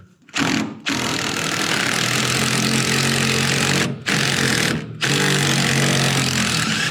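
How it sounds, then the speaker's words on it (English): A power tool, likely an impact wrench, removing 13 and 15 mm nuts from a tie rod end on a Chevrolet Tahoe, loud and close, running in long sustained bursts broken by two short pauses. "I'm gonna take off these nuts up here."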